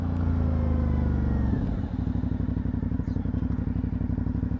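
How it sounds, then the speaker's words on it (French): An Aprilia Shiver 900 motorcycle engine roars close by, then drops abruptly to a lower, chugging pulse as the bike brakes late and slows down. "On va freiner au dernier moment."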